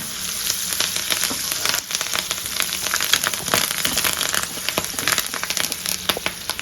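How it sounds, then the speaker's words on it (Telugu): Fresh curry leaves and roasted chana dal powder fry in a pan for a drumstick-leaf tempering, giving a steady close sizzle with crisp crackles and occasional stirring scrapes, no voices. "వేయించుకున్న శనగిత్నాల పొడి ఇదంతా బాగా వేగల్ల బాగా వేగింది"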